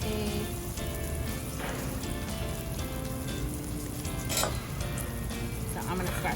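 Fish fries in hot oil over high heat until crispy and brown, giving a loud, steady sizzle throughout with a few faint clinks of utensils in the pan.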